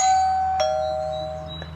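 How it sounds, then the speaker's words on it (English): A Wyze Video Doorbell Pro chime rings once, a clear sustained electronic tone held steady, with a faint second press near the end. No one speaks, and only a low background hum sits beneath the tone. "And then I can go ahead and ring the doorbell"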